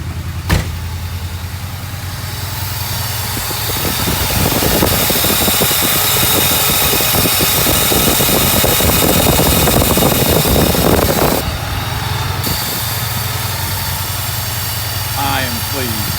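Mercedes 380SL engine running at a fast, steady high idle, a loud continuous rumble close to the car, with clicks and brief handling noises on top and a voice speaking partway through.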